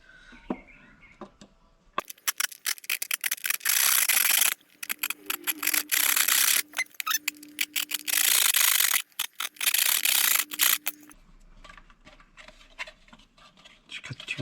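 A Sawzall blade cuts two notches into an off-road truck light cover, giving rapid rasping strokes in loud bursts that stop and start, with quieter scraping before and after.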